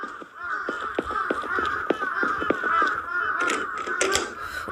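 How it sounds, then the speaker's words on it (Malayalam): A flock of crows caws in a Japanese horror video game, a run of harsh, repeated calls overlapping in an uneven rhythm over a steady droning background. "കാക്കക്കൂട്ടമൊക്കെ പറക്കുന്നതാ"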